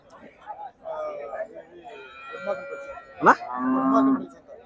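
Cattle moo loudly several times amid a busy bull market in Punganuru, with crowd chatter and other animal calls in the background.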